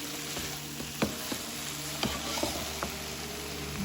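Chicken curry gravy with garam masala sizzles in a pan as it is stirred, a steady close frying hiss broken by soft scrapes and taps of the spoon.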